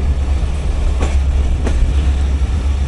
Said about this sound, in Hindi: कराची एक्सप्रेस पहले निकलेगी